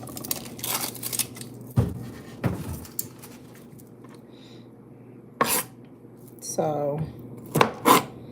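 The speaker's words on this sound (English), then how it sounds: "I'm going to cut them in half." Knife chopping food into rings on a board in a home kitchen, several sharp separate cuts spaced irregularly, close and clear, with a brief spoken word early on.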